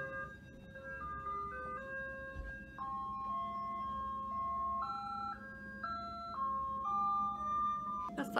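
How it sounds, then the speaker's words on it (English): An ice cream truck plays its melodic jingle on a street in Alaska, a steady stepwise tune of clear tones heard moderately far off, sounding alone over faint background noise. "That's the ice cream truck."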